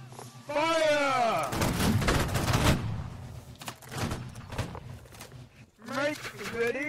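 Musket volleys from a line infantry company in the Napoleonic-era video game Holdfast: Nations at War, loud crackling bursts of massed fire between shouted drill commands and sustained battlefield noise.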